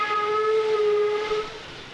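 A steam locomotive whistle on the Deccan line in India sounds one long, loud, steady harmonic blast that fades near the end, with no voices.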